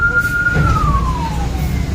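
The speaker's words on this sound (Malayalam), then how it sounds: "ഒരു ആംബുലൻസ് വന്ന് ബാക്കിൽ കുറേ നേരമായി ഹോണടി തുടങ്ങിയിട്ട്" An ambulance siren wails from behind on a road, one long sweeping tone sliding slowly downward, fairly loud over low traffic rumble.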